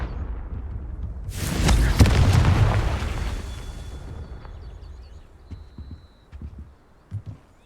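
A Confringo spell blast in the video game Hogwarts Legacy: one loud, broad explosive boom that swells and slowly decays over a few seconds, followed by scattered quieter thuds and small effects.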